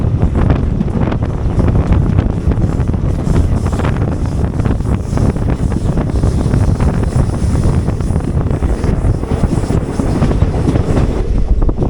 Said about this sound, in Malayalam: നമ്മളങ്ങനെ ഷാജി പാപ്പൻ്റെ ഗോമംഗലം സ്റ്റേഷനിലേക്ക് കയറുകയാണ്.